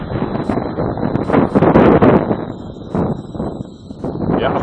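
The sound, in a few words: strong wind blowing on the microphone while flying an RC plane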